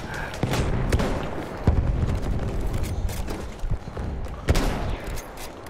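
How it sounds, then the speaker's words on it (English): Battlefield 1 combat with a grenade blast and dense rifle and machine-gun fire, sharp cracks and booms repeating throughout amid a continuous roar of battle noise. "Grenade!"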